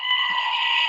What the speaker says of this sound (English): It's the goat, the screaming goat.